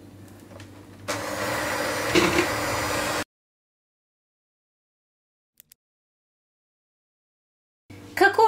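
Electric mixer whisking an ice cream mixture with sifted cocoa powder, a loud steady whir for about two seconds that then cuts off into silence before a brief clatter.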